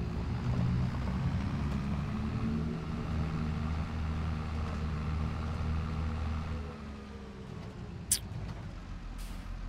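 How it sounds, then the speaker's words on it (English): A tractor engine drones steadily while driving in Farming Simulator 22 on the Elmcreek map, a low continuous rumble with a brief sharp hiss near the end. "Man, this tractor scoots."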